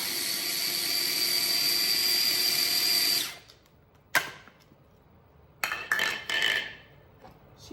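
A food processor grinds soaked crab and shrimp ingredients for Vietnamese bun rieu, a loud steady whirring drone lasting about three seconds, then stopping, followed by a few sharp clatters and short bursts of noise.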